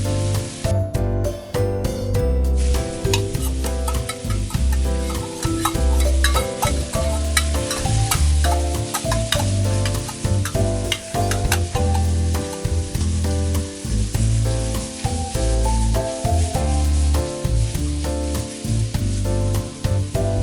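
Chopped onion stirred and fried in a small amount of oil for a Malvani-style prawn masala, a steady close sizzle with frequent rhythmic scraping and stirring strokes running throughout, alone without talk.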